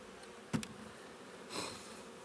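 Honey bees buzz faintly around a Hive IQ hive while a nuc is being hived, with a close, sharp knock and a brief scraping sound of frames being handled over the low hum.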